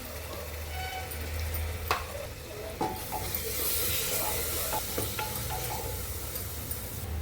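Ginger-garlic paste sizzles steadily in hot oil while being stirred for a masoor rice pulao, a continuous frying hiss broken by occasional sharp scrapes and taps of a spoon against the pot.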